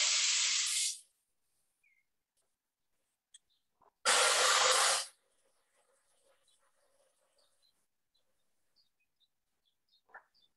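Steam from a home steam press hisses in two loud, broadband bursts about a second long each, separated by a few seconds of near silence with faint small noises.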